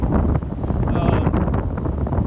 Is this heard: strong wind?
yes